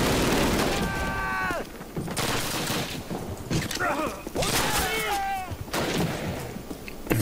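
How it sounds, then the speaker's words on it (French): Gunfire from the video game Call of Duty, a string of loud shots and bursts running through the whole stretch, with harmonic game effects and sounds layered over it. "Je me rends compte que je tire dans le vide."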